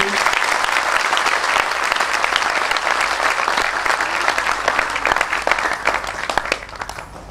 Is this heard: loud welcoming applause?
yes